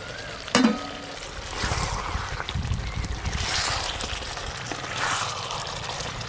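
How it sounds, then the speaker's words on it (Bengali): Goat meat frying in a pot and being stirred, with close scraping and sizzling bursts, a sharp knock near the start, and a continuous busy frying hiss throughout. "আবার একটু ভালো করে নেড়ে নিলাম"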